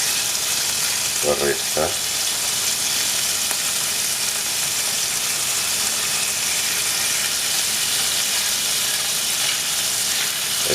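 Green vegetables hit a hot pan over high heat with little oil and give a loud, constant sizzle and hiss, joined briefly by a short spoken phrase.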